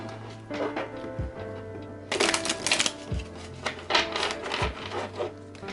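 Tarot cards riffle and slap together in several quick shuffling bursts, close and crisp, over quiet music in the background.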